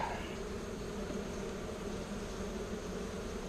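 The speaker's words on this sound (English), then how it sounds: "just how many bees are down here. They're overflowing from the hive." Honeybees swarm thickly around an open hive during an inspection, a steady dense buzzing drone held close and even throughout, with no talk over it.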